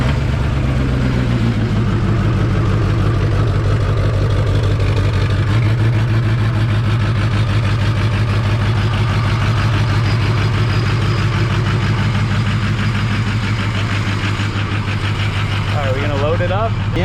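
Ford Bronco with a 6.0 Power Stroke diesel engine idling, a steady deep low rumble that stays loud and constant throughout, with a faint brief squeal near the end.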